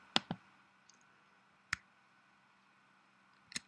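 A computer mouse clicks sharply and close by: a quick double-click at the start, then a single click, then another click near the end, with quiet room hush between.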